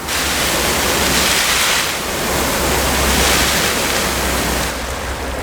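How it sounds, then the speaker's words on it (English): An expanding garden hose with its spray nozzle set to the flat setting throws a heavy flow, producing a loud, constant rushing hiss of water with slight swells in intensity. "It probably spreads out about 5 meters or so with quite a heavy flow."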